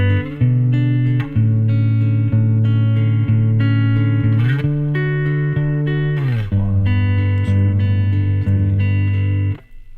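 A clean, twangy guitar plays the repeating chord progression of a song, steady and close, with no voices over it.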